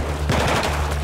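A short burst of automatic gunfire from the video game Battlefield 4, a rapid string of loud, close shots stacked over a steady low background hum.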